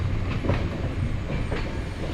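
The 20858 Shirdi to Puri superfast train runs along with a steady rumble and rhythmic clickety-clack of wheels over rail joints, close and continuous, with no talk.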